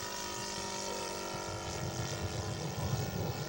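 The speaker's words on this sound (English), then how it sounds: "Wolfgang Seidel 7-cylinder radial." Scale model aircraft powered by a Wolfgang Seidel 7-cylinder radial engine, a steady droning propeller hum running continuously and slightly building in loudness, heard alone without talk.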